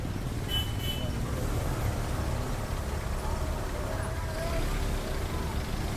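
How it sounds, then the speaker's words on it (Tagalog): Busy morning street traffic in Sta. Cruz, Laguna on New Year's Eve, with cars and larger vehicles rumbling steadily and a couple of short horn toots early on, while a voice murmurs underneath. "So mas matraffic ngayon dahil nga mas marami nang gumising para mamalengke"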